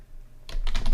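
Fast typing on a computer keyboard, a close run of crisp key clicks that comes in after a short quiet moment and keeps up to the end of a brief stretch.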